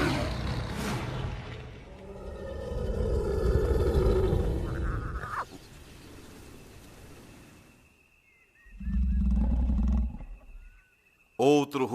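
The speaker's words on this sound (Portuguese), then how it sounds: "Outro rugido é ouvido, muito mais perto dessa vez." A wild lion roars at close range in two separate bursts, a long, loud rumbling roar followed after a quiet pause by a shorter, deep, heavy one.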